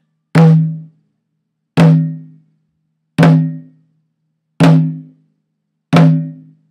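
Five evenly spaced flam strokes on a drum played with one open hand and one stick, each a close double hit with a short ringing decay, loud and close with no talk.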